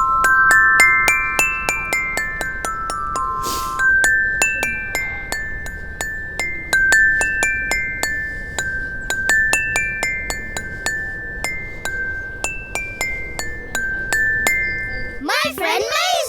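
Bright, glassy notes of a children's toy instrument, likely a xylophone or glockenspiel, plucked out one by one in a steady stepwise scale pattern that repeats for most of the passage, with a brief different sound at the very end.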